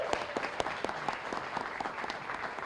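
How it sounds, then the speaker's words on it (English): Audience applause at a hall of fame induction ceremony, a steady wash of many hands clapping with sharp individual claps standing out, moderately loud throughout and with no talk over it. "Everybody give him a round of applause."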